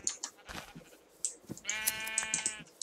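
Sheep bleating in Minecraft, several short bleats with a longer wavering one near the end, fairly close and clear, with no talk over them.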